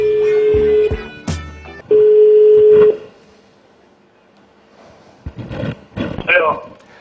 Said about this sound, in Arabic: انا راح اطلع على التليفون